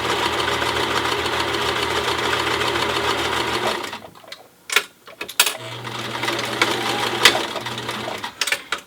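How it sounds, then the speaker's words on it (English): Sewing machine stitching two cloth layers of a face mask with a quarter-inch seam: a fast steady motor whir for several seconds, a pause with handling clicks, then another shorter run of stitching, close and loud. "I'm using a 1/4 inch seam allowance on all of these seams and stitching the two layers together"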